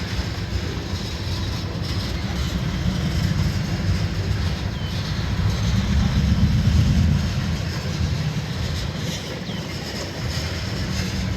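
A long Canadian National freight train of tanker cars rumbles past steadily, a continuous low roar with faint clanking, swelling slightly midway and holding close throughout.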